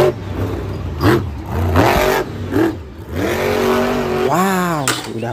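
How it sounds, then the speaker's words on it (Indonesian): A toy monster truck's revving engine sound rises and falls in several short bursts, close and loud, ending in a longer, higher whining rev. "Ada mobil monster."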